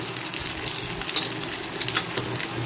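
Okra (bhindi) frying in a pan over a medium flame for masala bhindi, giving a soft, steady sizzle with light stirring scrapes and crackles, close and fairly quiet.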